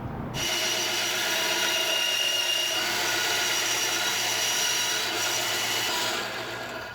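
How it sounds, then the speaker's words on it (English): Wood-cutting bandsaw slicing through a plastic milk crate, a loud, steady, close grinding whine that starts abruptly and holds for about six seconds before easing off. "So the tool that I'm going to use for cutting these out is my wood cutting bandsaw"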